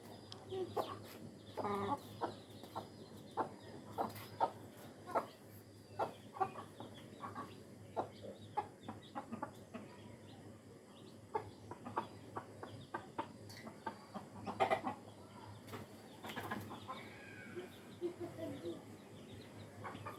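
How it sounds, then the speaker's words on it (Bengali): Hens, chicks and a rooster on a household farm cluck and scratch about, with scattered short calls and bursts of movement close by, while people talk nearby. "এই যে আরেকটা মুরগি আসতেছে, এই যে আসতেছে মুরগির বাচ্চা।"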